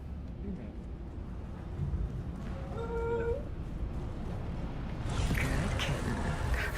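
A short, rising cat meow from a video game, set against continuous game ambience with a steady low background rumble.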